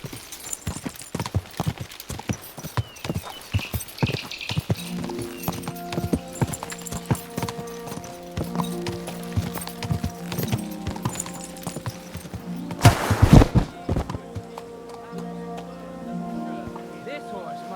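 Horse hooves clip-clop at a steady walking rhythm in the video game Kingdom Come: Deliverance 2, moderately close, with a brief louder rustle partway through and game ambience underneath.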